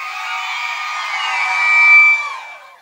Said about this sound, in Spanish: El grito de mi público.